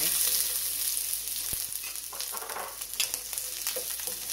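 Onion frying in a little oil in a pot, a strong close sizzle and crackle with stirring and a sharp knock of a utensil against the pot early on.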